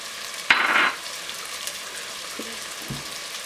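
Fennel seeds thrown into a hot pan while making cream of asparagus soup burst into a sudden loud sizzle lasting about half a second, then fade to a faint background crackle with a couple of soft clicks.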